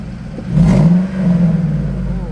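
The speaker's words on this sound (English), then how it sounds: "let's give it a couple revs" A 2001 Ford SVT Cobra Mustang convertible with a manual gearbox and side-exit exhaust pipes rumbles and revs up sharply, then holds at a loud, throaty roar close by.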